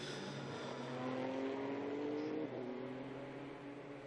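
A Ligier European Series race car sweeps past at Spa, its engine tone rising and then dropping sharply as it goes by, loud and steady under a background of circuit noise.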